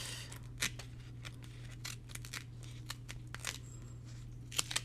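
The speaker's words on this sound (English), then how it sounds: "These scissors are probably not the best for cutting tape." Scissors cutting tape indoors, a series of quick, crisp snips and rustles at an irregular pace, close and quiet over a low steady hum.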